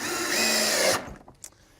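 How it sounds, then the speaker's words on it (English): A power drill drives screws into a simple homemade table, whirring loudly and steadily for about a second before stopping abruptly, followed by a few faint clicks and taps. "we can drive a couple extra screws just to strengthen it up."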